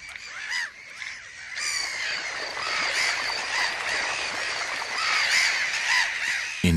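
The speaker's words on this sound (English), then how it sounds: "the intruder is enervated by the gull's screams" Gulls scream over a salt steppe at an intruder, a dense flock of harsh, overlapping squawking calls rising and falling continuously, fairly close and loud with no talking.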